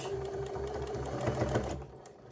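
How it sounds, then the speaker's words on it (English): Sewing machine back-stitching a corner of a jacket made from batik canvas and batik cotton, a steady close mechanical whir with rapid needle pulses that runs about two seconds and then stops abruptly. "I'm going to continue sewing here. One little spot. I'm going to back stitch."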